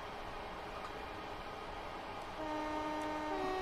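A train in a video game rumbles steadily with a noisy hiss, then a sustained horn-like tone swells in partway through, loud and continuous, without talk.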